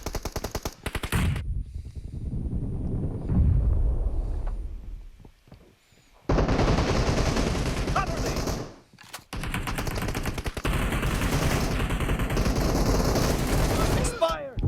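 Bursts of automatic gunfire in PUBG Mobile, loud rapid rattling volleys broken by short gaps and one near-silent pause, with a voice speaking briefly alongside the shots.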